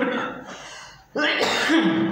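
Someone coughs indoors, a short rough burst that fades, then after a brief pause a louder, harsher cough with voiced throat sounds.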